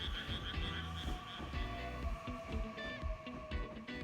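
Frogs croak near a rural train station in Wakayama at night, a dense chorus of rhythmic pulsing calls overlapping close by, steady and continuous over a faint background hum.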